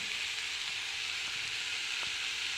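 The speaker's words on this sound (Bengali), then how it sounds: "দিয়ে আমি আবারও এগুলো নেড়েচেড়ে একটু ভেজে নেব" Papaya pieces with potato fry in a pan with garlic paste and ginger paste, giving a steady, soft, even sizzle with a few faint ticks of stirring.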